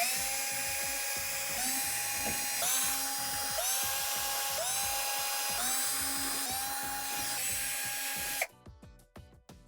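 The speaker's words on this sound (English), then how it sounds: "go ahead and remove all the Torx screws around the perimeter of the back panel" A power driver backs Torx screws out of the back panel of a Whirlpool Swash washer, whirring in several close, high-pitched spins with brief pauses between them, then falling to quieter clicks at the end.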